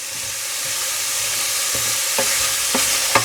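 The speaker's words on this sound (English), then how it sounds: "Okay, so the pork is seared." Pork searing in a pan for a Murcian tomato magro tapa, a steady broad sizzle with a few sharp utensil scrapes and clicks toward the end, close and continuous with no talk.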